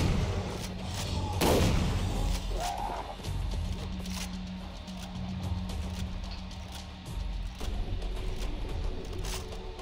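Shotgun fire in the video game Far Cry 3: a loud sharp blast near the start, then further shots and impacts over a constant rumbling game ambience.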